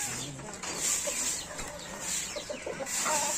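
Paraoakan chickens, young birds and a breeder, clucking and chirping in a farm pen, with several short calls scattered over steady background noise and no voices.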